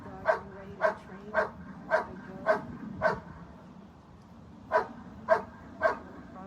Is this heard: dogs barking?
yes